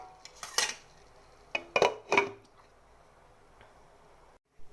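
A few metallic clinks and clatters of a lid placed on a pot of stir-fried chicken, three short knocks close together, then quiet.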